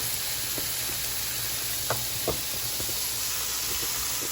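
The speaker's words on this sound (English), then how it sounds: "right next to it, I got my sauce starting to simmer" Marsala sauce simmering in a pan beside cooking noodles gives a steady soft sizzle and hiss, broken now and then by faint pops and bubbles, fairly quiet throughout.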